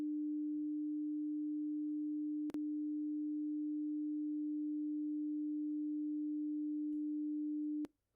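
Steady electronic sine tone sounding the musical note F, a pure unbroken pitch held for about eight seconds at moderate level with two faint clicks, no voices.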